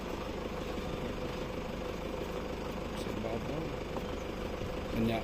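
A motor driving a zip line transport that carries people and loads across a bridge crossing drones steadily at a low idle throughout. Voices talk over it, and a brief louder bump comes near the end.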